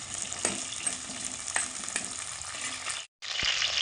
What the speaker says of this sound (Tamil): வெங்காயத்தோடு வதக்கி விட்டோம்னா நல்லாயிருக்கும்.